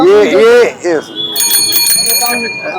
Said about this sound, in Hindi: बज रही है ना घंटी